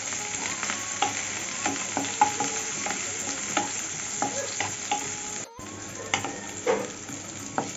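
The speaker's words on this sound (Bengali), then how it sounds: "পেঁয়াজটাকে হালকা করে ভেজে নেব।" Chopped onion frying lightly in a pan over black cumin seeds, a steady soft sizzle broken by repeated scraping stirs of a spatula, close and continuous with no voices.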